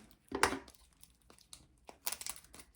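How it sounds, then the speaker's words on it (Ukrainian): Adhesive tape peeling off plastic orchid pots with name labels stuck under it, giving two close, crackly bursts of crinkling and tearing with quieter rustles between them. "І коли збираю скотч, то збирається і"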